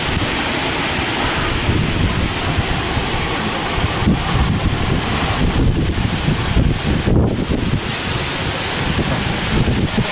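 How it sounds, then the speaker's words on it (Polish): Strong wind roars and buffets steadily for the whole stretch during a stormy afternoon, a dense, constant rush with gusts, with no voices. "Ale wiatr."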